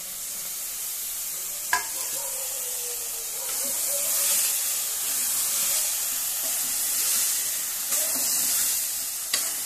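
Cucumber pieces fry in a pan with onions and tomatoes, a strong, steady hissing sizzle with steam, close by and constant, broken by a few sharp clinks of a utensil against the pan.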